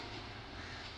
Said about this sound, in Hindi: Last train 48 down Rahman Baba express.